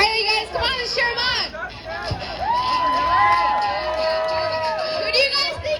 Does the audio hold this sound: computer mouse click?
no